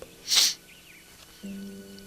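One short, sharp sneeze from a person with allergies, close and fairly loud, followed by a quiet pause and a low steady hum.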